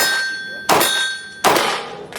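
Bullets strike a steel gong target at an outdoor shooting range during test firing of Özkursan range ammunition, giving two loud ringing metallic clangs with a third fainter hit at the end.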